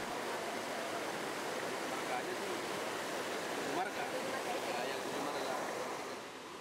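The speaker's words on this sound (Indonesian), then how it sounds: "Aliran inilah yang mengalir ke irigasi bagian bawah atau toba." Water flows through an irrigation channel in Tipang village as a steady, broad rushing wash, fairly close and continuous, easing slightly at the end.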